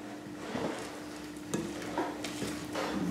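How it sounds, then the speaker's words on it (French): Flour is worked into shortbread cookie dough in a bowl, making soft scraping and stirring strokes with a few light knocks. The sound is brief, close and fairly quiet. "Et je mélange."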